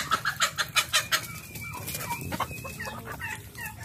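Chickens on a backyard farm cluck close by in a quick run of repeated calls, then softer scattered clucks and chatter continue in the background.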